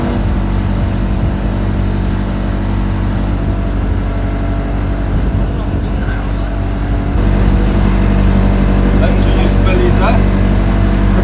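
A boat's engine drones steadily and loudly as it motors through the Mekong Delta in Vietnam, with no breaks in the hum.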